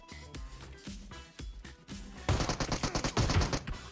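Gunfire in PUBG Mobile on the Miramar map: several spaced single shots, then a rapid, loud burst of repeated fire, with game music or ambience underneath.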